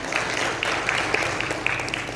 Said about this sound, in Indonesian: Tepuk tangan ini.